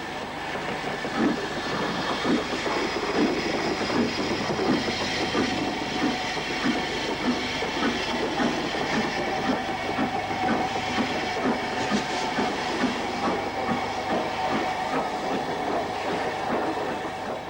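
A 1960s steam locomotive, recently overhauled, reverses away toward Crewe station with a steady loud hiss of steam and rhythmic clanking and clatter of wheels on rails, continuous and fairly near, with no voices.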